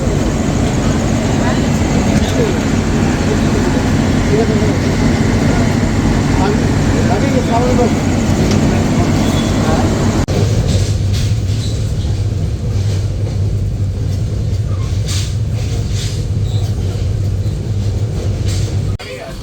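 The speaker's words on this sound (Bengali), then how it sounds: "ট্রেনটি প্রবেশ করলো সান্তাহাট জংশন রেলওয়ে স্টেশনে" The Shimanta Express train rolls into Santahar Junction station at night, a loud, steady rumble and clatter heard from inside a coach while someone talks over it.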